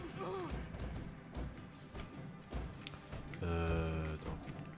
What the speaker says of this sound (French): j'entends un robot. Ah oui, un robot Panzer machin là.